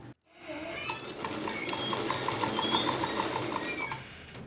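A sewing machine starts after a brief silence and stitches folded fabric in one steady run, a close, even whirr with a fast ticking rhythm.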